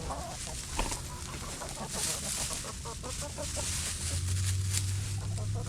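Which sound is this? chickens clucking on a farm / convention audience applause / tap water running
chickens clucking on a farm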